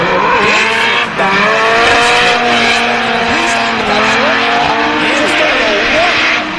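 Pro 2 drift cars battling at Teesside in the British Drift Championships, sliding on the handbrake with sustained loud tire squeal and roaring engines throughout, under a commentator's continuous talk.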